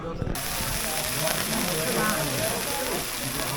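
Loud, close sizzling of prawns on a hot plate in a Benidorm restaurant, a continuous crackling hiss with faint voices murmuring underneath.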